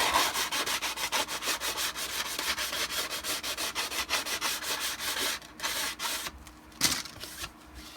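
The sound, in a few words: rubbing down edge of plastic armor part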